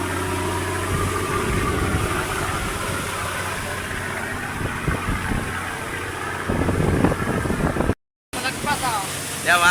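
A boat's engine drones steadily at sea in rough Pacific weather, a continuous close rumble with wind and splashing mixed in and excited shouting over it.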